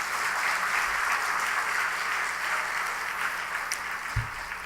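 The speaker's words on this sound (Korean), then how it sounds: "우리 귀한 간증해 주신 함 장로님께 감사의 박수 드리겠습니다." A church congregation claps steadily for an elder after his testimony at a Wednesday evening service in Haeundae, a dense, even wash of applause that holds for several seconds without voices.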